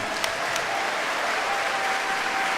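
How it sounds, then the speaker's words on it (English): An esports arena crowd at The International Dota 2 grand finals applauds a team, a steady dense wash of clapping with a few sharper claps standing out, sustained and fairly distant throughout. "everybody please give them a big round of applause."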